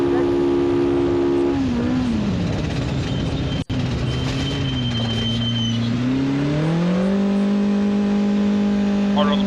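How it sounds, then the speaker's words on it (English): An off-road race vehicle in the NORRA Baja race from La Paz to San José del Cabo brakes hard into a speed zone, its loud engine note dropping in pitch, settling, then climbing again, with a commentator talking over it. "Hard on the brake as it looks like they pull down into a speed zone"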